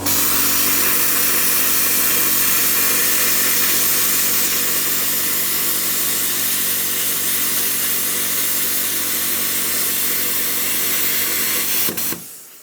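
A steady, loud hiss and roar from an Xtreme Plasma Cut 40 plasma cutter slicing through 10mm steel plate, continuing unbroken for about twelve seconds before it cuts off abruptly.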